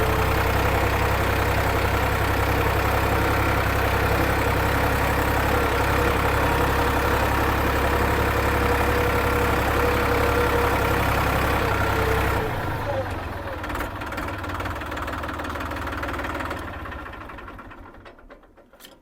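Tractor engine idling steadily with a continuous low rumble, loud and close for about twelve seconds, then fading and quieting toward the end.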